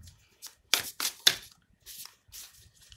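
Tarot cards are shuffled and flicked close up, a few sharp riffling bursts with short pauses between them and softer card rustles trailing off, no speech.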